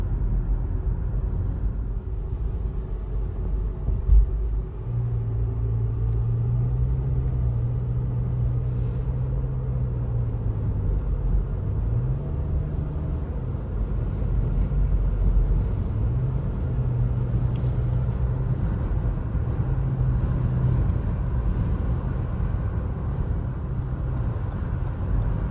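A car cruises along Highway 401 in Canada, with steady low road rumble and engine hum filling the cabin throughout and no talk.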